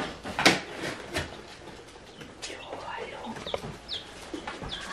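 Newly hatched chicks give faint, scattered high peeps in a quiet indoor setting, with soft rustling and a few louder broadband knocks early on.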